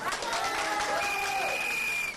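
An audience applauding at a French political talk-show gathering, dense steady clapping filling the whole moment, with a faint tone and voices mixed in underneath.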